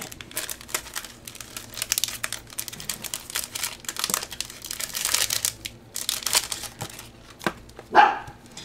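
A crinkly plastic-wrapped pack of paper ephemera is torn and handled up close, with dense irregular crackling and rustling throughout, and a dog barks once near the end.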